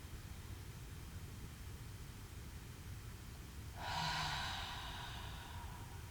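A slow, deep exhale during a guided meditation: a soft, airy breath of about a second rises out of a quiet background hiss, fairly close, then fades.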